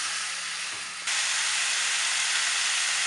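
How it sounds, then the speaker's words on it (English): Garlic paste frying with turmeric in oil for a mutton curry, a steady broad hiss that jumps louder after about a second and stays even and close. "And now fry for 4-5 minutes."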